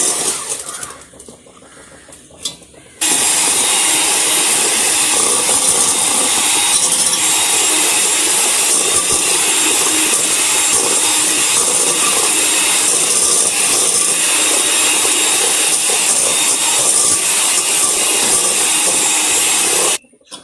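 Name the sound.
beating butter and sugar in a bowl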